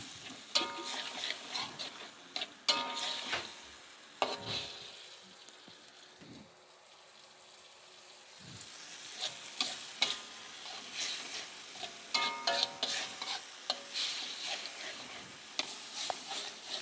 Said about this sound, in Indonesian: Kita akan tumis sampai harum.